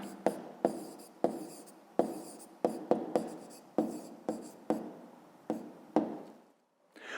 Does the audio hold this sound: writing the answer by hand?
yes